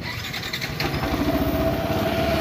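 A Yamaha NMAX scooter engine, warmed up, is started: a brief whirring crank and then a steady idle hum that continues close and moderately loud.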